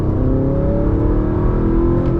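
A warmed-up first-generation Audi R8 V8 revs hard up through its range, the close, loud engine note climbing steadily in pitch and holding a strong, continuous roar with no talking.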